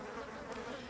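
Honeybees buzzing, a steady close drone of wings with no breaks, alone and faint over a brief moment.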